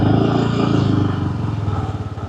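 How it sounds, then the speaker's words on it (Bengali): A motorcycle engine drones steadily up close while riding through Ghughudanga village in Naogaon, Bangladesh, a continuous low rumble with a slight rising pulse. "আমি আছি একটি মোটর বাইকের পেছনে"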